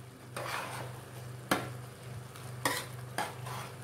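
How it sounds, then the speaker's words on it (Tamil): Rice mixture with butter beans and peanuts being stirred in a pressure cooker pot: a steady low simmering hum broken by a few sharp scraping strokes of a spoon at intervals, close and moderately loud. "அரிசி கலந்த கலவையை நன்றாக கிளறிவிட்டு"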